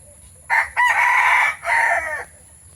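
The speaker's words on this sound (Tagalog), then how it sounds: "ito yun yung hairy chicken oh" A rooster of a hairy-feathered chicken breed crows loudly and close by, one long drawn-out call broken into two bursts, with a quiet background.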